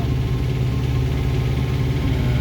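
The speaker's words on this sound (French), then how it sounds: "là je suis au moteur parce qu'il n'y avait plus que 1 à 2 nœuds de vent" A sailboat's motor runs in a steady, low drone without pause in the Bay of Biscay, a constant mid-to-low rumble close by with a slight vibrating texture.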